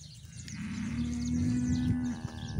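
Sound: cows eating silage on a farm

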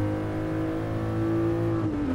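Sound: Toyota Supra car engine in video game Gran Turismo Sport

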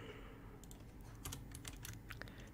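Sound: typing code on a computer keyboard

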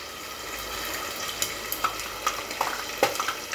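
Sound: pastel frito frying in oil in a pan

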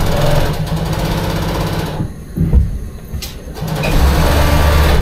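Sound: professional sewing machines stitching yacht cushions

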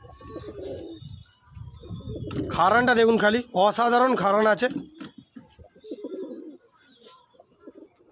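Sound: Gola Madras pigeons cooing

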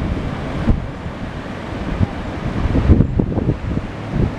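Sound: floodwater rushing over riverbanks

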